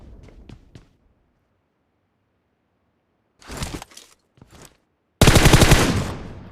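Bursts of automatic gunfire in a battle royale shooter game, a few faint shots early, then louder rattling volleys and a long, loud sustained burst at the end, with no talking.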